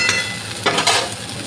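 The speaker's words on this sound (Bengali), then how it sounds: "ডাঁটা, আলু, বেগুন, কলা, তারপরে হচ্ছে গাজর, সব কিছুকে একটু ভালো করে ভেজে নেবো" Stalks, potato, eggplant, plantain and carrot frying with turmeric in hot oil, a steady close sizzle with a couple of brief louder bursts of stirring.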